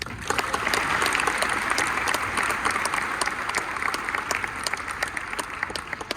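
Warm audience applause at a Tampa Prep school NAMI speech, many hands clapping steadily at close range, holding a full level before gradually thinning toward the end.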